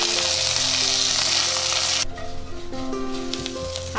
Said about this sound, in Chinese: 锅里面先加入一点点油，加入几片姜，把海带跟虾米先放进来炒一下